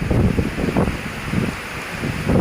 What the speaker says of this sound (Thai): ฝนตกหนักลมแรงนะครับ